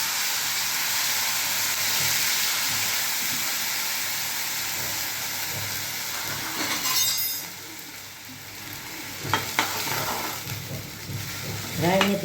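Fenugreek and mustard seeds sizzle in hot oil during tempering for a Gujarati potato-onion curry, giving a steady close hiss with a few sharp pops and clinks near the end.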